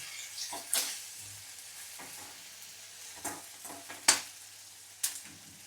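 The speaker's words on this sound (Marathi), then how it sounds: "चांगला टोमॅटो मऊ होईसोर आपण भाजायचं चांगलं" Tomatoes and onions sauté for a prawn masala, a quiet low sizzle punctuated by several sharp, separate spatula scrapes against the pan, close but soft overall.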